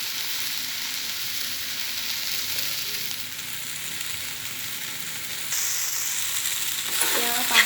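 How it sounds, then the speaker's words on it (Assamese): Ingredients for a fish curry with potatoes sizzle and fry steadily in a pan, a constant close hiss that swells slightly toward the end as something is stirred. "এইখিনি মই 3 মিনিটমান সময় ধুনীয়াকৈ ভাজি ল'ম।"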